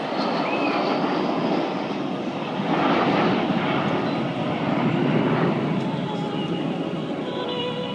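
Avro Vulcan bomber flying past at an airshow at RNAS Yeovilton, a loud sustained jet roar swelling as it nears and passes, with a faint announcer voice beneath.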